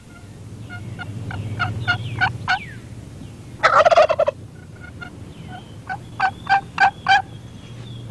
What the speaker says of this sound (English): I've been talking to that gobbler all morning, but I guess that's one turkey I just can't fool.